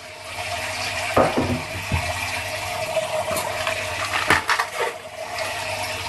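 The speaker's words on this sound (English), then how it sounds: "these are my ice cube trays. I'm going to dump them inside the water now." Ice cubes are dumped from trays into fish tank water, giving a couple of sharp splashy plops and clattering knocks over a steady watery background.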